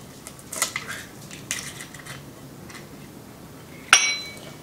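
An egg being mixed into a homemade dog cake batter, with a few faint clinks of a utensil against the bowl followed by one sharper, louder clink near the end.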